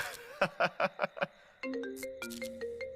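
A mobile phone rings with a repeating electronic tune of bright tones, sounding right after a short burst of snickering laughter, close and clear.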